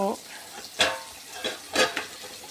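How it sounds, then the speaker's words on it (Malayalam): Food frying in two pans on a home stove, crackling steadily with louder sizzling bursts that flare up about a second apart. "രണ്ടിടത്ത് ഞാൻ വറക്കാനും വെച്ചു"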